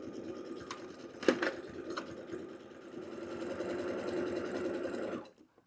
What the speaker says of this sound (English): start sewing at that 1/4 inch mark